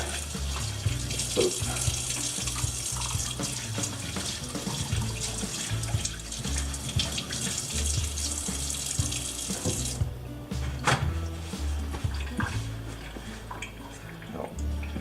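A kitchen tap runs steadily while hands are rinsed after handling buttermilk-marinated catfish, a close, continuous splashing gush with slight changes in flow partway through, and no talking.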